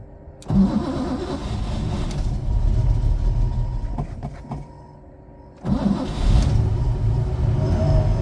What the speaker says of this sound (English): So that is a cold start.